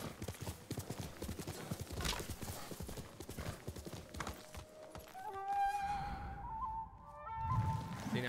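Horse hooves clip-clop steadily at a riding pace in Ghost of Tsushima, a rapid rhythmic patter up close that fades out midway, giving way to sustained musical tones and a brief whinny-like sound near the end.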